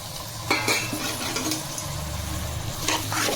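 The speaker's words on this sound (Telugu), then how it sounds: "ఉల్లిపాయలు బాగా ఎగిన కాబట్టి మటన్ వస్తే కీమా అన్నది కడిగేసుకుని వేసేసుకుంటాం" Washed mutton keema tipped into a pan of well-fried onions for keema curry, a loud close hiss of frying with wet crackle and a few metallic clanks as it hits and is stirred.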